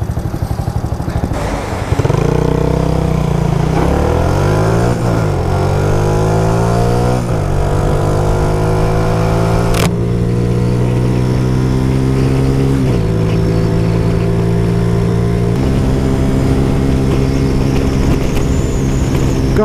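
A new motorcycle engine revs loud and close while riding, with harmonics stepping upward through each gear change, then settling into a steady drone with wind noise.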